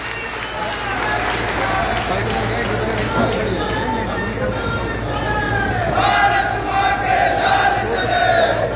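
Loud crowd clapping and cheering at a public event in Naina Devi, Bilaspur, Himachal Pradesh, welcoming minister Anurag Singh Thakur, with a dense steady roar of voices that swells near the end.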